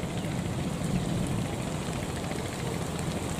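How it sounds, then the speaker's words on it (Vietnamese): Steady rain falls on flooded rice paddies during planting, a dense, continuous patter with no voices. "giờ trời đang mưa mà mấy vẫn cấy luôn nè các bạn"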